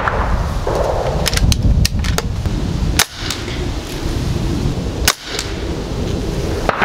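An ATI NOVA Vista Liberty .22 air rifle fires outdoors with wind noise behind, several sharp close cracks spread unevenly across the stretch, two of them standing out loudest.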